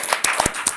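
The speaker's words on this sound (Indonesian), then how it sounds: "kita kasih aplaus terlebih dahulu" Classroom applause for a student group, a brief scatter of several close claps from a few hands, uneven and quick.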